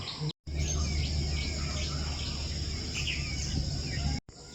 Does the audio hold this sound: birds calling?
yes